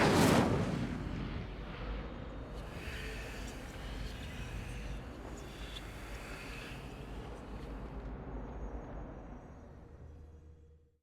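An Incendio fire spell cast in Hogwarts Legacy erupts in a sudden blast, followed by a low, rumbling, crackling roar that holds for several seconds before cutting off.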